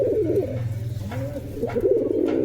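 A pigeon coos close by in a low, rolling, repeated call from a cage with a female pigeon, with a faint steady hum underneath.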